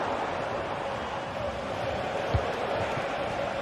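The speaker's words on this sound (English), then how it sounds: "The crowd encouraging him to take it on." Steady crowd roar fills a football video game stadium as Leverkusen attack, a continuous dense wash of cheering with a brief thump partway through.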